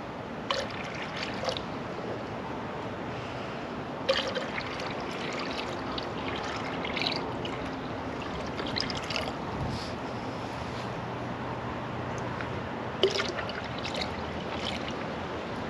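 Water pours steadily into a bucket hanging from a zip line trolley, a continuous trickling stream with occasional splashes and knocks, fairly close and unbroken by speech.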